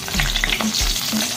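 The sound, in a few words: dried red chillies and bay leaf sizzling in hot oil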